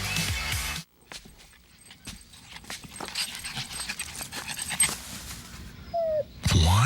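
A puppy pants and whimpers in a TV commercial, a quick run of soft breathy panting with small whines, fairly close and alone after a brief burst of other sound.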